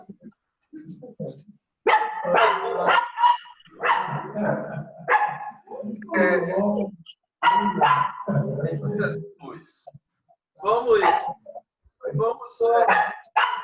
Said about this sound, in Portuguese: Segura o cachorro, Helena.